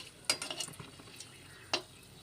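Whole spices (bay leaf, four cardamom pods, cloves) stirred in a pan of hot oil over low gas for mutton kosha: two sharp scraping clatters of the spoon over a soft, quiet sizzle, with no voices.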